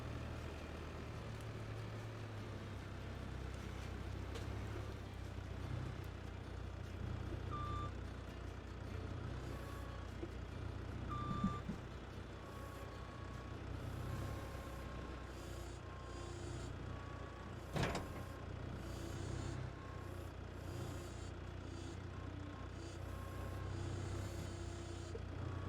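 Heavy lorry engine droning steadily in Farming Simulator 22, with occasional reversing beeps and air-brake hisses over a constant low rumble, no one talking.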